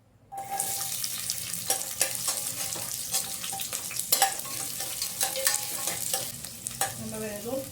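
Four garlic cloves and shallots hit hot oil for Karnataka-style bisibele bath, a sudden burst of close crackling sizzle that keeps popping steadily with occasional scrapes and splutters.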